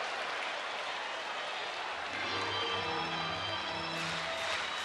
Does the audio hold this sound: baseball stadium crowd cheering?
yes